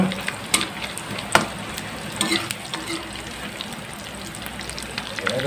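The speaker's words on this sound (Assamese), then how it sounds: "ফ্ৰাই কৰি ল'ম, ধুনীয়াকৈ ফ্ৰাই কৰি ল'ম।" Steady sizzling of food frying in a pan for an egg and milk curry, with sharp clicks and scrapes of stirring cutting through now and then.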